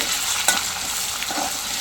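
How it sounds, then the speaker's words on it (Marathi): Chopped onions sizzle loudly in hot oil tempered with mustard and cumin seeds, with a stirring scrape and crackle running through the short stretch. "आणि कांदे फोडणीला घातले"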